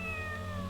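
A cat meows in the video game Tales of the Abyss, a single drawn-out, clear meow over a steady low background hum, close and fairly loud.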